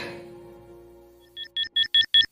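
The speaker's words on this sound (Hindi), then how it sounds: "अलार्म किसका है यार?" An alarm goes off in a bedroom, starting with a few spaced electronic beeps that quickly settle into a regular rhythm of loud, shrill pulses after a quieter lead-in.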